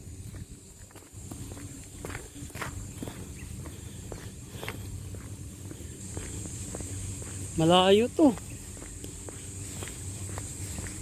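Soft, steady footsteps crunch along outdoors with people chatting; a brief louder rustling burst interrupts partway through.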